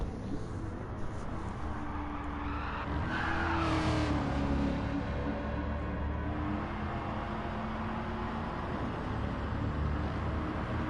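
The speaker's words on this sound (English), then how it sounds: "See Mr. C doing a bit of drifting." A race car drifting in Gran Turismo Sport at Laguna Seca, a Gr4 machine whose engine roars continuously while tires squeal and skid in a drawn-out smear, sustained and close.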